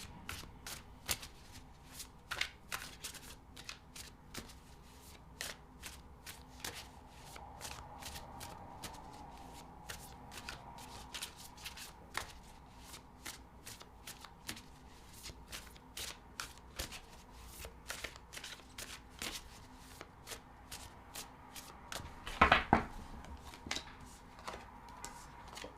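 Tarot cards are shuffled quietly and repeatedly: a long series of soft, crisp riffling snaps at an uneven rhythm, with one louder flurry near the end and no talking.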